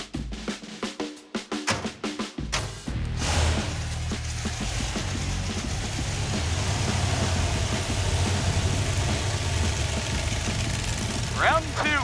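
Roadkill's Stubby Bob car starts off and is driven, its engine settling into a loud, steady, rumbling drone that carries on to the end, with people talking over it.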